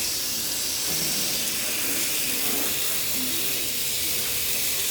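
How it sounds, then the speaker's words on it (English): A high-pressure spray nozzle washing dirty HVAC coils produces a steady, loud hissing rush of water spray that holds constant throughout, with no clear speech. "It's the Steve Labs nozzle. Awesome. It's so good for washing coils."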